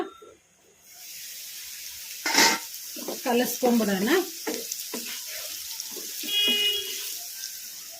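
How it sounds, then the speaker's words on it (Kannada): Beetroot fry stirred in a pan on the stove: a steady sizzling hiss with scraping and stirring strokes, plus a brief clatter early on, close and moderately loud. "ಈಗ ಒಂದು ಸಲ ತಟ್ಟೆ ತೆಗೆದು ಕಲಿಸ್ಕೊಂಬಿಡೋಣ."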